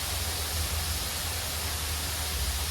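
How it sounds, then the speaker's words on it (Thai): A waterfall at a shaded garden eatery with large trees in Thung Hong, Phrae, produces a steady, loud rushing hiss with a low rumble underneath, unbroken and even throughout. "มีเสียงน้ำตก มีต้นไม้ใหญ่ๆลมลื่นค่บ"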